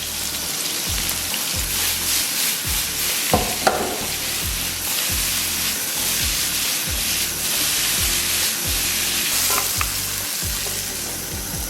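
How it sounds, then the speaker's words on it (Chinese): Shiitake mushrooms with green and red peppers stir-fried in hot oil for a spicy beef noodle dish: a steady close sizzle with regular scraping and tossing strokes of a spatula in the wok, no voices. "油温微微热啊，咱们把香菇给下去，然后给里边下点青红椒。"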